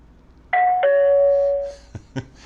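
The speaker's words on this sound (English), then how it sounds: "And then I'm going to ring the bell." A two-tone electronic doorbell chime from a Bosma X1 security camera doorbell rings once, clear and close, followed by a couple of soft knocks or clicks.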